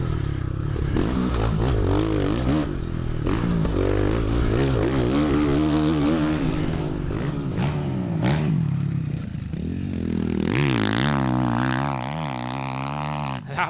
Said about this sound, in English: revving the Ducati to the moon, just how it wants to be ridden